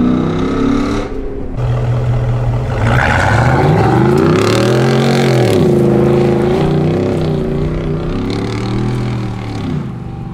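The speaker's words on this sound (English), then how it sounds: "I got the Corsa Extreme exhaust, which is no resonator, just straight through. Sounds fantastic." Ford SVT Raptor V8 with a Corsa Extreme straight-through exhaust and no resonator revs hard up close, rising and falling through a loud, deep rumbling sweep that lasts several seconds.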